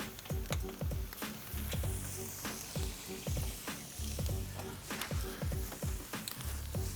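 Thick double-cut pork chops sear in a hot pan with steady, close sizzling and crackling, interrupted by frequent sharp pops and spatters over the full stretch.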